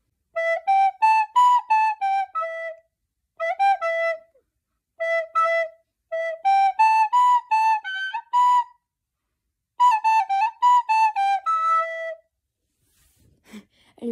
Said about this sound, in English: that is how to play the Among Us theme song on a recorder